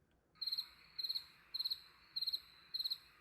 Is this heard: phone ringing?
no